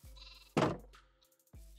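A Minecraft sheep bleats twice, a bright nasal bleat up close, then a brief pause and the start of another, with a faint game hum between.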